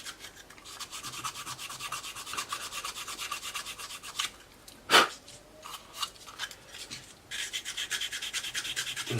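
A fingertip rubs back and forth inside the intake seam of a Tamiya 1/32 F-16 CJ plastic model kit, giving a steady close, soft scratchy rasping with brief pauses and one sharper click midway.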